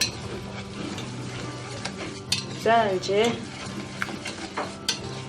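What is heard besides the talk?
whisking cooked eggplant with a wire whisk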